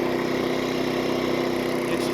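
A Champion 2500 dual fuel generator runs close by with a steady, even drone, its body panels buzzing and vibrating throughout with no pauses.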